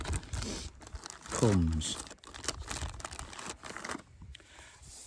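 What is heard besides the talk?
rustling plastic bags holding books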